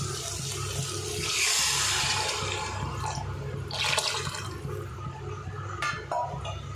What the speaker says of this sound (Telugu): ఇప్పుడు మనం ఇందులో ఈ స్టేజ్లోనే కర్రీకి సరిపడా వాటర్ని యాడ్ చేసుకుందాం.